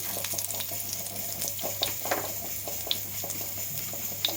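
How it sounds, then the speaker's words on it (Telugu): Cumin seeds, along with mustard seeds, fry in hot oil as a steady close sizzle with small crackles and pops, and there is no talking. "జీలకర్ర బాగా వేయించాలి."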